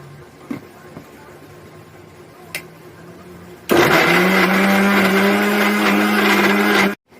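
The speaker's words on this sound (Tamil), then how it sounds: "முதல்ல தோல் சீவிட்டு கட் பண்ணி வச்சுக்கிற பீட்ரூட்டை மிக்சியில் போட்டு நல்லா அரைச்சிக்குவோம்." A mixer grinder starts up suddenly and whirs loudly and steadily while blending peeled, chopped beetroot for halwa, running for about three seconds before cutting off; a few faint taps come before it starts.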